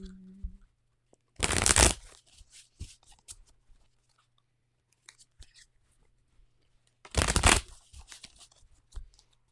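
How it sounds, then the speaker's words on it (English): Tarot cards are shuffled close to the mic in two brisk, loud riffling bursts, separated by quiet handling clicks and taps. "Is that shuffling really loud for you guys?"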